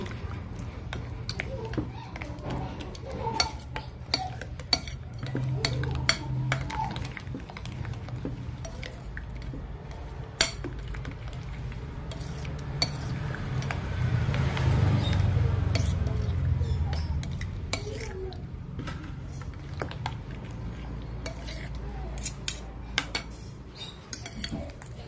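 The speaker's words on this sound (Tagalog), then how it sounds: "Haluin lang natin." Spoon clinking against a bowl while stirring homemade avocado ice cream mixture, steady scraping and frequent light taps close by, with a voice speaking briefly under the kitchen sounds.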